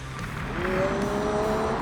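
A BYD Sealion 7 electric SUV launching hard from a standstill, a smooth rising whine climbing steadily over road and wind roar, with no engine rumble breaking through.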